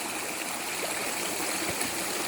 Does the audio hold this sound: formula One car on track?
no